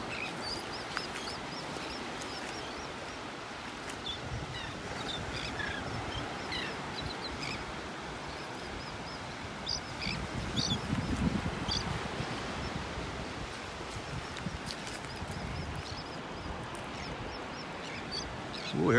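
Seagulls and royal terns squawking on a beach sandbar in southwest Florida, scattered calls over steady surf and wind, fairly distant and faint, with no talking.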